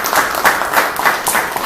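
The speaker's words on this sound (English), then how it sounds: "give yourselves a big round of applause" A class of presentation-skills trainees applauds in a training room, a short burst of group clapping with pulsing swells, fairly close and loud, with no talk over it.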